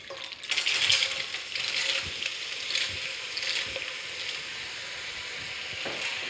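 Mussels tipped into a hot pan of sweating shallots set off a loud, close sizzle and crackle that stays steady with light stirring rustle, fading slightly after the first splash.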